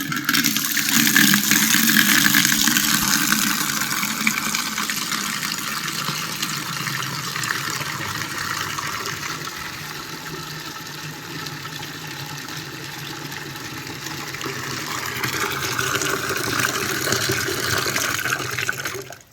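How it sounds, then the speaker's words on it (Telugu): Water gushes steadily from a tap into a plastic bucket, a loud continuous broadband rush that stays full for the whole stretch, swelling slightly at the start and end, with no talking. "నీళ్ళు మాత్రం బాగానే వస్తున్నాయి"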